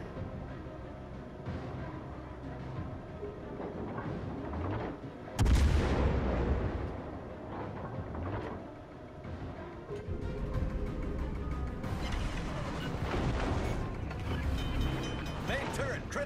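Naval gunfire in World of Warships: Legends, heavy cannon blasts with a loud burst near the middle, then continued booming shots and mechanical clatter amid a busy battle soundscape.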